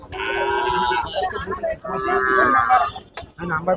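Cattle at the Jethua livestock market moo in two long, loud calls, with a farm animal sound over a noisy crowd and a person talking nearby.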